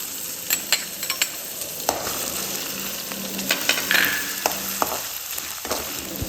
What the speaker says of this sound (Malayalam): ഒരു 2-3 സ്പൂണ് ഓയിൽ ഒഴിച്ചു കൊടുക്കാം. അപ്പോൾ ഒരു 2 വെളുത്തുള്ളി, ഒരു കഷ്ണം ഇഞ്ചി, ഒരു 2 ചെറിയ പച്ചമുളക് ഇതൊന്ന് ഇതിലേക്ക് ഇട്ട് കൊടുക്കാം.